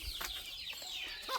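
Native country chickens clucking close by in a short burst, several overlapping hen calls with no talk.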